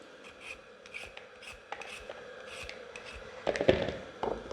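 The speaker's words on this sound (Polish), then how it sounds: "Obieram ziemniaczki." A potato is being peeled with short, scraping rasps repeated at an irregular pace, close by, growing louder and busier toward the end.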